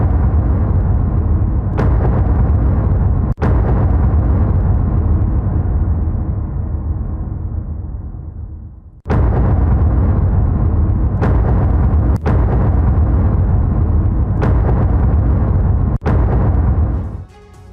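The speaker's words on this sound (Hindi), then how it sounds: "आईडीएफ ने हमास के ठिकानों पर जबरदस्त बमबारी की है।" Israeli bombardment of Hamas positions in Gaza. Heavy booming explosions roll into long, deep rumbles in a series of loud blasts with abrupt breaks between them.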